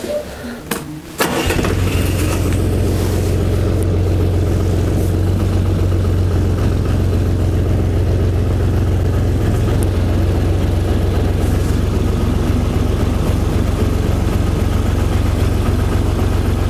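A small tractor engine sputters to life and then idles steadily, a loud, even chugging rumble that runs on without a break.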